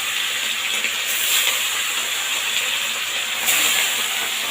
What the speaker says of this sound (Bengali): এবার হলুদ নুন মাখানো মাছগুলো আমি ভেজে নেবো একে একে। একটু ফাটে সাবধানে ভাজবেন।